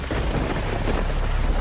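Heavy rain pours down with rolling thunder, a dense, continuous roar of rainfall and low rumbling that fills the whole stretch without any voices.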